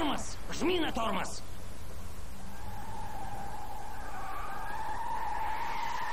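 A car in the Mafia video game skids with a long tire squeal after braking, alongside short shouted voices at the start.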